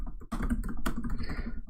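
Quick keystrokes on a computer keyboard, a dense run of close, crisp clicks and taps lasting about a second and a half after a brief quiet start.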